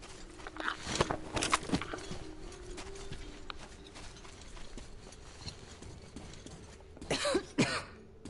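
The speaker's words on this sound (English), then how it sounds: "I can't deal with hearing that cough" Coughing from a character in the video game Metro Exodus, several harsh cough bursts near the start and a louder cluster near the end, over quiet footsteps and game ambience.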